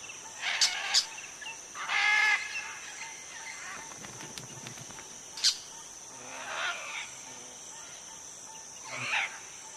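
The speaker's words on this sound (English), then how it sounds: "A pair of crimson-fronted parakeets are setting up home next door to the macaws." Crimson-fronted parakeets give scattered sharp chirps and squawks from an almendro tree near nesting macaws, several short bursts at moderate distance over a steady background of insect buzz.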